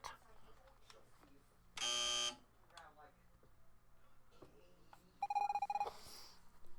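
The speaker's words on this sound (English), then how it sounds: "When you hear the buzzer" An electronic buzzer in the video game Evoland 2 sounds twice, each a loud, flat half-second blare, standing out from quiet room tone and soft, scattered incidental noises.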